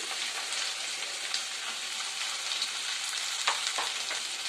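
Chopped onion and curry leaves frying in hot oil over a low flame, a steady close sizzle with a few sharper crackles and pops, no voices.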